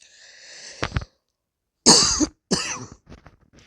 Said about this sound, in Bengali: আর কাশিও হয়েছে দেখো ঠান্ডা লেগে গেছে আমার